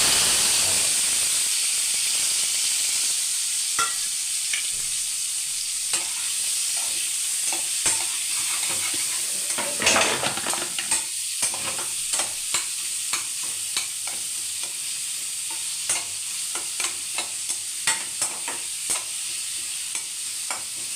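Onions and tomatoes frying in oil for paneer masala, a continuous hissing sizzle with a rapid series of spatula taps and scrapes against the pan, growing more frequent toward the end.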